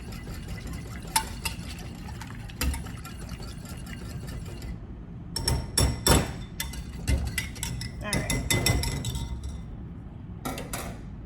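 A single egg being mixed in a bowl while making biscuits, with utensil clinks and scraping against the dish coming in irregular bursts, loud and close, some stretches busier than others.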